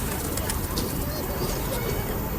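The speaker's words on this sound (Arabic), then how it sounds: "هناك الطيور." Pigeons coo outdoors among other birds, soft rounded calls repeating over a busy background, with a voice talking over them.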